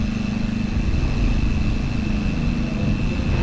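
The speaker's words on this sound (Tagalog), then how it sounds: "marami na akong naririnig na tunog ng motor" Motorcycle engines run on a mountain road near Marilaque Highway, a continuous loud rumbling drone with a steady hum and no break, no voices over it.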